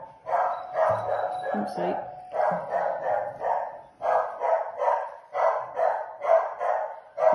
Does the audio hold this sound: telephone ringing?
no